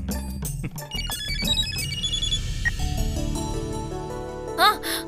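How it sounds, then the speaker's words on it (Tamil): A telephone rings with a loud electronic melodic ringtone in a Tamil TV drama scene, with brief voices around it. "போன் அடிக்குது"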